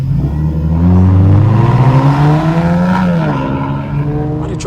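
A loud 300 hp Lexus engine revs and accelerates while driving, its rising and falling harmonic drone steady and close throughout with a gear-change dip midway.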